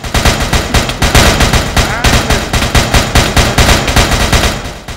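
Rapid bursts of automatic gunfire in Minecraft rattle loudly and continuously, a dense, sharp barrage with no pauses.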